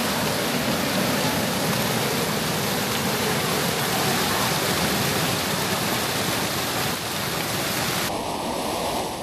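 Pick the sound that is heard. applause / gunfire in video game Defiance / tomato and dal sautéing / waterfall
waterfall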